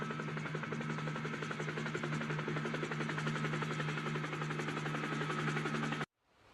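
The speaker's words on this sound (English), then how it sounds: "On our way to the Superstar Tower in the new Luke Superstar helicopter." A video game helicopter, the Luke Superstar, flies with a steady loud rotor drone and buzzing hum throughout before cutting off abruptly at the end.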